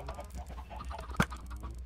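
A chicken clucks in a Minecraft Tekkit automated chicken farm: soft, scattered game clucks and patter over a steady low hum, with one sharper burst near the middle, and no talking.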